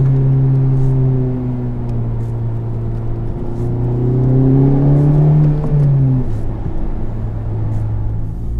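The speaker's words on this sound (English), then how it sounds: "Make those front tires squeal a little bit" A Honda Civic Type R accelerates hard with a loud, steady engine drone rising in pitch, while a thin tire squeal may ride over it before the revs settle.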